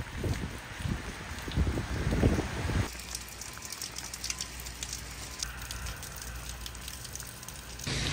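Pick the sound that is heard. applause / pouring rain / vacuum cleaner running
pouring rain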